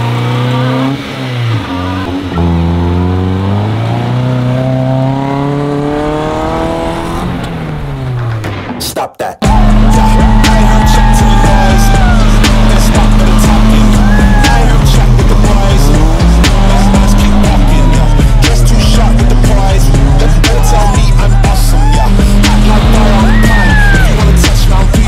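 A car painted completely black is driven with its windows and doors open. A rising, shifting engine drone stops abruptly, then a loud, steady engine hum continues with occasional squeals, and no one speaks.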